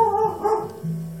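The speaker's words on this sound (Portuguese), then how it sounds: "Ai, minha cadela, que linda, Anajinha, participando da conversa." A dog gives a short bark and a brief whimpering yip indoors, close and alone.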